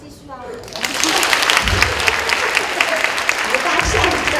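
Applause from a university lecture-hall audience keeps going after guest speakers are welcomed, a broad continuous clatter of many hands, with a few words spoken beneath it at the start.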